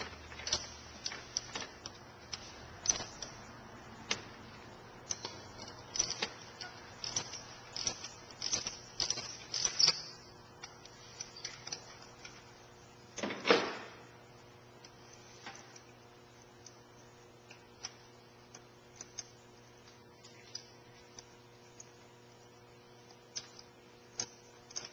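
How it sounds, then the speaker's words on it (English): A socket wrench loosens a spark plug on a 2005 Jeep Grand Cherokee, with quick bursts of close ratchet clicks that thin out into sparse, isolated clicks. "Unscrew the spark plug with a 5/8 spark plug socket."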